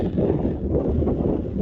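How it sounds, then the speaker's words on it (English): Rough, continuous wind buffets the microphone at the Mesa Verde National Park cliff dwellings, a low rumbling roar with no other sounds breaking through. "And again, I apologize for the wind."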